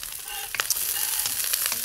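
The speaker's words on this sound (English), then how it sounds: "So I've got the sizzle." Beef and Chinese broccoli sizzle in a hot pan while being stir fried, a bright crackling hiss with quick pops and clatter of stirring, close and loud without talk.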